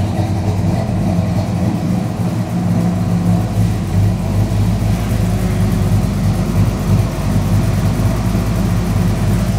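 Truck engine idling steadily after sitting unused for three months, a loud, continuous low rumble close by with no pauses or speech.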